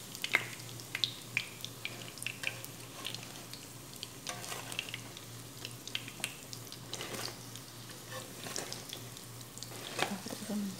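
Eggplant pieces deep-frying in hot oil for crispy fried eggplant, a steady crackling sizzle with scattered pops and spatters, fairly quiet and close, with no talking.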